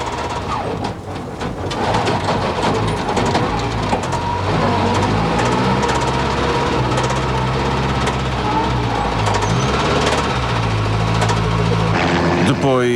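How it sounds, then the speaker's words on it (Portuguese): A rally car engine running rough on a Guarda gravel stage, a loud, continuous, strained drone that stays close and steady throughout, with a narrator talking over it. "o seu motor tinha um cantar que não era um bom"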